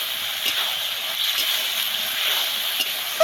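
Soft green peas sautéing in a pan, a steady gentle sizzle and hiss with faint stirring scrapes, close and even throughout, no voices.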